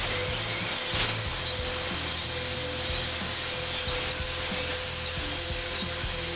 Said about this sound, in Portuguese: na velocidade 3 dessa máquina e sempre lembrando da inclinação da politriz nos cantinhos